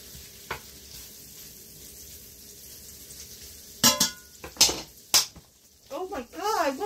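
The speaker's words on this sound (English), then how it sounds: "Give my beans a stir." Beans frying in a pan on a home kitchen stove give a steady background sizzle, broken by a few loud scraping stirs of a utensil. A voice speaks briefly near the end.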